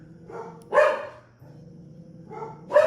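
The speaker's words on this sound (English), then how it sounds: "Dog's going crazy." A dog barks sharply twice nearby indoors, the barks spaced a couple of seconds apart with some softer yips and low background noise between them.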